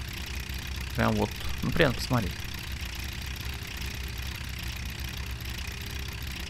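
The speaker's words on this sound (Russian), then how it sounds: "Очень мне трактор понравился. Он маленький, такой компактный, интересный." A small, compact tractor idles in the Farming Simulator 17 game, a steady low engine hum running throughout under a brief stretch of someone talking.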